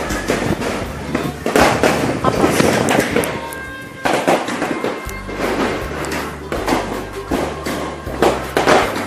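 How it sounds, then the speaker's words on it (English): New Year's Eve fireworks bursting in dense, overlapping volleys of booms and crackles, loud and continuous across the whole stretch, with low rumbling thumps underneath and a voice faintly present. "So you might still hear some fireworks"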